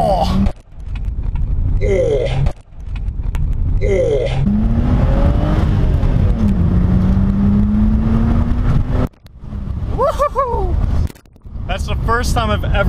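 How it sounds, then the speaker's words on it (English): A Saab 9-3 Turbo X launching with launch control: the engine revs hard and climbs steadily in pitch as the car pulls away, loud and close, while people talk and exclaim over it. "First time I've ever gotten the tires to spin on this car"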